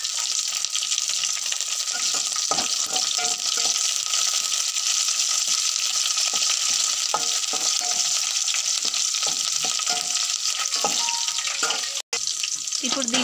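Curry leaves crackling in a pan of frying green chillies and onions, a steady loud sizzle running throughout with small stirring scrapes, a brief cut near the end.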